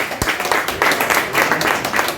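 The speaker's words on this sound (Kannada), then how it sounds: "ದಯವಿಟ್ಟು ಎಲ್ಲರೂ ಚಪ್ಪಾಳೆ ತಟ್ಟಿ." A village audience claps at a ceremony honouring a bhajan group, with brisk, steady applause from a nearby crowd filling the short moment.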